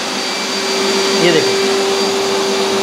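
A steady, loud motor whine of an industrial vacuum cleaner runs throughout, with a brief voice speaking over it.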